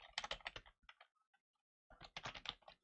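Typing on a computer keyboard, close and crisp: two quick bursts of rapid key clicks separated by a near-silent pause with a few scattered taps.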